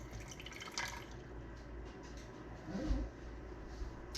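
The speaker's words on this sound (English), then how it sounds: "We're going to add a little bit of the water" Water is poured in a small, faint trickle during pasta cooking, quiet dripping and splashing against low kitchen background noise.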